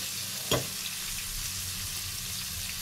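Vegetables including cauliflower frying in a pan for fried rice, a steady bright hiss of oil sizzling throughout with a single brief clink near the start, no voices.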